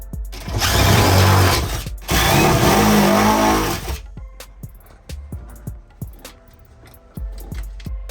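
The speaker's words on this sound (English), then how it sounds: "so we're going to drill them all out." A loud power drill whirs in two long bursts while drilling holes in a metal wall panel, then stops, followed by scattered metallic clicks and knocks of handling.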